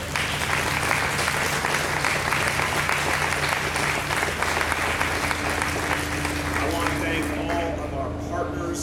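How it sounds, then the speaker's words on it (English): A crowd at a mayoral press conference on climate change gives a round of applause, continuous clapping from many people over a steady low hum. "Let's give them a big round of applause."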